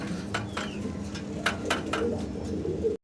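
Soft coos of fancy pigeons repeat at a steady pace over a low, constant background hum, with a few brief clinks in between.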